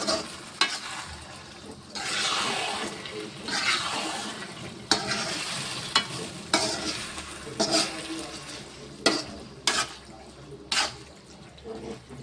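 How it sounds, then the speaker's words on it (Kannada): Repeated scraping and stirring of a wheat-flour mixture with tempering in a pan, with bursts of utensil contact against a soft sizzling background; no voices. "ಈಗ ಇದನ್ನು ನೀಟಾಗಿ ಮಿಕ್ಸ್ ಮಾಡ್ಕೋಬೇಕು."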